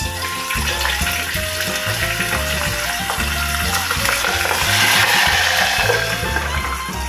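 Pork skin frying in hot oil for crispy kare-kare, a loud, steady sizzle with crackling pops and spatter that swells briefly midway.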